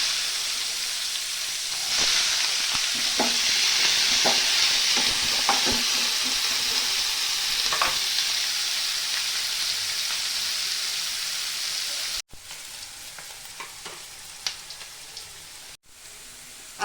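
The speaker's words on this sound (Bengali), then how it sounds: "পেঁয়াজটা আমার লাল লাল ভাজা হয়ে গেছে," Chopped onion sizzles steadily in hot oil with bay leaf, whole garam masala and cumin seeds, while a spoon scrapes and taps the pan in irregular strokes; the frying hiss carries on alone after the stirring stops.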